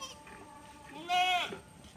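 A goat or sheep at a livestock sale lets out one clear, drawn-out bleat close by. The flock includes Nellore Jodipi goats. Quiet background sound comes before and after.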